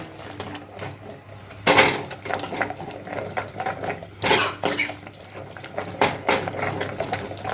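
Curd being stirred constantly in a pan over a high flame while making Jain kaju gathiya: steady scraping and clinking of a spoon against the metal, with a few louder strokes.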